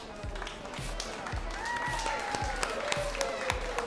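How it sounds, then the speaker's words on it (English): Steady applause from a crowd at a 3lb robot combat event, with a few sharper, heavier thumps pulsing through and faint voices under the clapping. "All right, round of applause."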